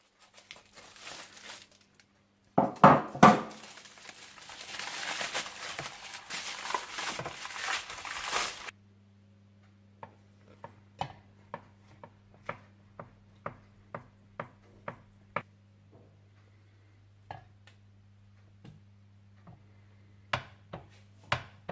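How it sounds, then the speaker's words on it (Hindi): A knife cuts frozen shahi kulfi into slices, after a stretch of loud crinkling and handling noise, then a series of sharp, separate cutting clicks spaced about a second apart over a low steady hum. "अब इसे मैं निकाल लूंगी और इसके स्लाइसेस काट लूंगी"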